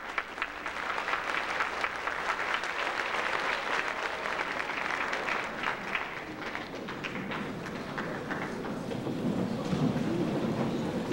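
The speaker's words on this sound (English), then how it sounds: "Students, let's give them all a nice round of applause." A school graduation audience gives sustained applause for the parents and relatives of the Louis M. Klein Middle School class of 1997, a dense roomful of clapping that holds steady throughout.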